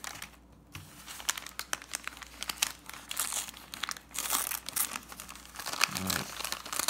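An eBay mail package holding a cecropia moth cocoon is torn open, giving close, irregular crinkling and tearing of paper and plastic with scattered crunchy bursts and no talking.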